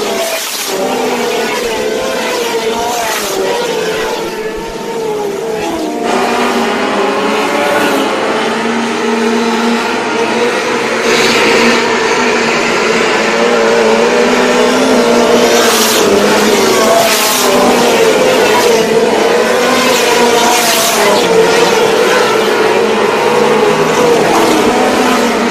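Race cars circle a dirt track at turn 4, engines roaring loudly and continuously as several cars rise and fall in pitch while passing, with a faint announcer's voice at times.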